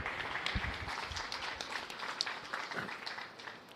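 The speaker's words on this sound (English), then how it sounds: "Give these exhibitors a round of applause." Applause at a county fair beef cattle show for the exhibitors, a moderate round of scattered clapping that carries on steadily and then tapers off near the end.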